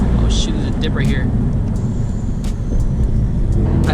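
A 2020 Subaru WRX with a Stage 2 exhaust drones steadily while driving, a loud, continuous low rumble captured from close by with road noise throughout.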